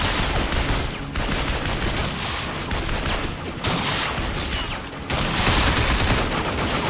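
Heavy sustained gunfire in the PS3 shooter Binary Domain roars as dense, continuous automatic bursts, loud and close, with brief gaps between volleys.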